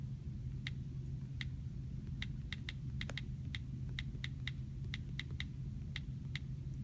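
Keys on a computer keyboard are struck in irregular quick clicks, some in short bursts, over a low steady background hum, with no talking.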